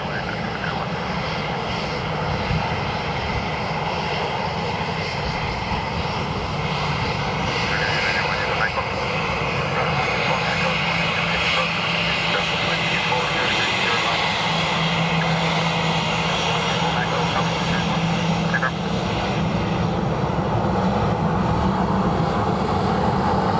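A Ryanair airliner comes in to land at Dublin Airport on runway 28 left, a steady broad engine roar holding for the whole stretch with a faint tonal whine, while radio voices talk over it.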